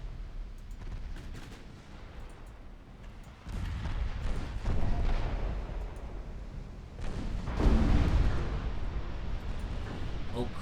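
Naval main and secondary guns fire during a battleship engagement in Ultimate Admiral Dreadnoughts, heavy booming salvos that thicken into a sustained rumbling barrage, loud and dense.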